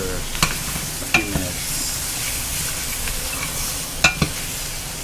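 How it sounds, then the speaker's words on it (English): Peppers, celery and onions cooking in a gumbo roux over medium-low heat, with a soft steady sizzle broken by a few sharp spoon clacks and stirring scrapes, close by, no talk. "peppers, celery, and onions. And then we're gonna let that cook down for a few"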